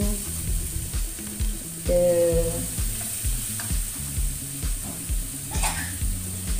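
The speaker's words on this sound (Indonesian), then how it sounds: "Jadi tumis-tumis terlebih dahulu terinya ya sampai mengeluarkan bau harum" Small dried anchovies sautéed in a pan, bright crackling sizzle with repeated utensil stirring scrapes and clinks, close and fairly busy, no talking.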